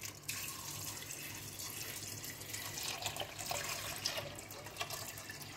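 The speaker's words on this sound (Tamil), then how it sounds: "இதில் தண்ணி சேர்த்துக்கலாம்." Water being poured into chopped beetroot, a steady soft splashing stream running throughout, close and fairly quiet with no voices.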